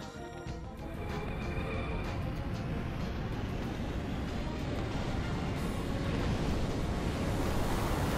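The Psych Bomb X attack item goes off in Legend of Dragoon as a loud, rushing roar that builds within the first second and then holds as a dense, continuous blast with no voice.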